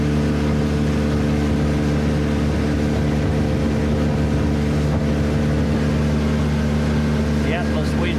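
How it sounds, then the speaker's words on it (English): Big tugboats on the Burnett river near Bundaberg, a steady low droning engine rumble with constant wind buffeting, continuous and fairly loud throughout. "Big tugboats there."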